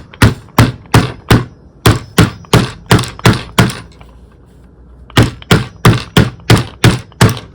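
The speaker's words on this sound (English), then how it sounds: "I won't talk while I'm hammering because it's very loud" Loud, sharp metallic hammer strikes on the edges of a metal bottle cap in quick, steady bursts, two runs of blows separated by a short pause, close up with no talking.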